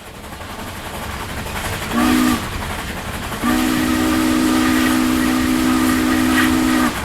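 A 1920s train sounds its steam whistle: a short blast, a pause, then one long sustained blast of about three and a half seconds, loud and close over a steady background hiss.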